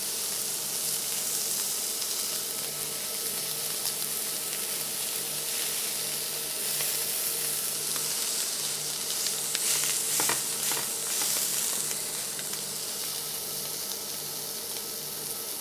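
Steady, close sizzling and crackling of meat searing on a hot surface, continuous throughout with a few louder pops near the middle.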